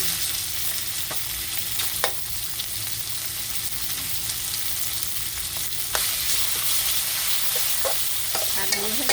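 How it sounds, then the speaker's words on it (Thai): Garlic and pork stir-frying in a hot pan, with a loud, continuous sizzle up close and occasional clinks and scrapes of the spatula as the food is stirred. "เอากระเทียมลงค่ะ กระเทียมลง"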